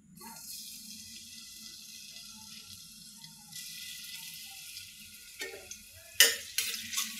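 Chopped garlic sizzles in hot oil in a kadai for a dal tempering, a steady close frying hiss with soft stirring, and a few sharper spatters and scrapes near the end.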